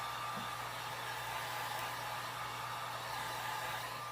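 A heat gun warming epoxy gives a steady, loud blowing hiss with a low motor hum underneath, continuous and close throughout with no talking.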